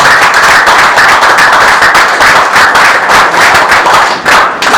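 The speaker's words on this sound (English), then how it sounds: "May we, in our usual friendly manner, give our leader a robust round of applause." A dense, steady round of applause from an audience at a Liberal Movement gathering greets the leader, loud and continuous throughout with sharp overlapping claps and no speech.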